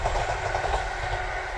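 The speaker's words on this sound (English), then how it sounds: "There's the train." Steady rumbling roar of a train rolling past nearby, a continuous low rattle of wheels on track.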